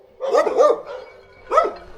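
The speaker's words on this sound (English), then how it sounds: "Guard dog. It's on a chain, Carol." Chained guard dog barking outside a small hidden house on Bora Bora: two quick loud barks close together, then a single bark after a short pause, fairly near and with no other sound.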